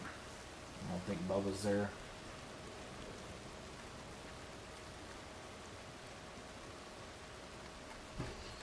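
Rain falling in the RedM Red Dead Redemption 2 game world, set in an 1891 frontier county: a steady, even hiss of rainfall throughout, with someone speaking briefly near the start.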